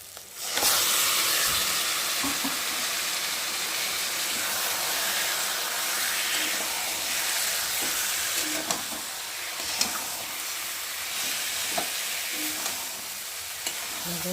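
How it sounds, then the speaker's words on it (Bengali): Steady loud sizzling of chicken frying in hot spiced oil, with occasional scraping stirs, continuous and close throughout. "এখন আমি দিয়ে দেবো চিকেনগুলোকে, দিয়ে ভালো করে কষিয়ে নেব"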